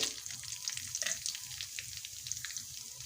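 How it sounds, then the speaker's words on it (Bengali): Dried bay leaves, whole dried red chillies and cumin seeds frying in hot oil for ghugni, a bright continuous crackling sizzle with spitting pops and light stirring, close and steady without voices. "ফোড়নগুলোকে ভালোভাবে ভেজে নেব"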